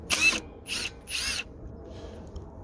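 A power driver spins out a screw with a Phillips #3 bit during a Mazda 6 and Ford Focus swap. It gives three short, close whirring bursts with brief gaps between them, and no one speaks.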